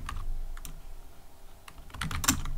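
Someone types code on a computer keyboard, producing a handful of light, close keystrokes in a short uneven burst. The typing ends with a louder cluster of clicks.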